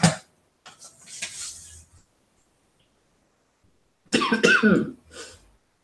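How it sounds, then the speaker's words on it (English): A few dry coughs come up close, followed by a pause, then a louder burst of harsh coughing with a short trailing cough. "I'm still coughing a little bit."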